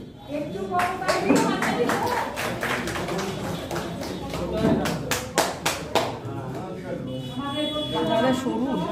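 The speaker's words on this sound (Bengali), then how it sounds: "একটু করতালি।" Audience clapping at a Bengali book launch and poetry reading, a burst of hand claps from a seated crowd, fairly close, with talk running underneath.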